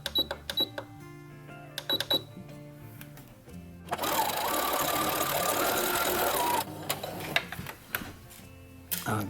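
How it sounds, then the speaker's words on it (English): Sewing machine running a top stitch on a Star Wars jumpsuit pocket, a steady close mechanical whirring burst of a few seconds between quieter clicks and handling of fabric. "And start by sewing the very top stitch."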